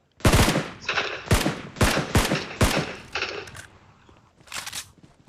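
Bursts of automatic gunfire in the mobile battle-royale game PUBG Mobile, several loud rapid volleys separated by brief gaps, fading into a last, quieter burst.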